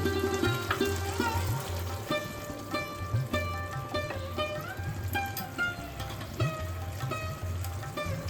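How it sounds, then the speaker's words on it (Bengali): Tomato paste sizzling in a frying pan alongside red chili paste for a Bengali paneer kaliya, a steady moderate frying crackle with scattered pops and light clinks running throughout, no voices. "এবার আমরা টমেটো বাটাটা দিয়ে দিচ্ছি"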